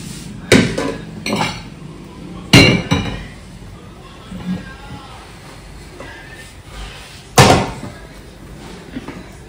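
A metal griddle (tava) set onto a gas stove beneath a pot of veg pulao rice, giving a few sharp metallic clanks and knocks spaced seconds apart in a quiet home kitchen.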